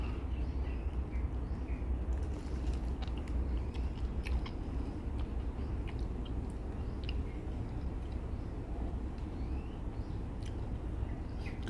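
Close, steady chewing of fresh nipa palm fruit, soft crunching bites running continuously with faint birds in the background.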